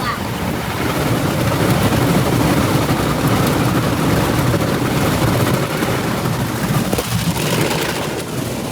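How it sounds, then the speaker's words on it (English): McNeil car wash blow dryers roar loudly and continuously, a dense, steady blast of air that fills the whole stretch without letting up. "if you look at the McNeil dryers, they say you need ear protection because they're so loud"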